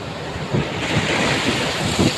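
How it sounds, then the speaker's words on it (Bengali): Ocean waves break at Digha beach, a steady roar of surf and wind buffeting the microphone, with soft surges of water rolling in every second or so, loud and close. "দেন কেমনে ঢেউ আইতেছে।"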